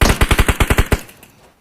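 A rapid burst of automatic gunfire rings out in PUBG Mobile, about nine sharp shots in quick regular succession that stop abruptly and trail off into a short echo, loud and close.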